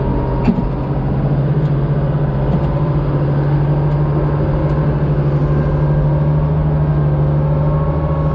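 A Champion D562 motor grader's engine runs as a steady, continuous low drone while the machine is driven back and forth, with a constant hum and only faint clicks above it.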